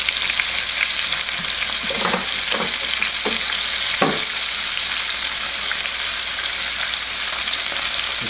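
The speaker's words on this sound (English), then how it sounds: "When you guys deep fry it, it'll float to the top." Chicken deep-fries in hot oil with a loud, steady close sizzle and bubbling, broken by a few sharper stirring clinks and scrapes near the middle, with no voices.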